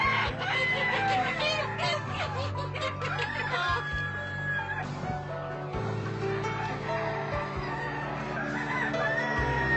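Chickens kept in battery cages, with repeated clucking and several crowing calls from nearby birds over a steady low background hum, dense and continuous throughout.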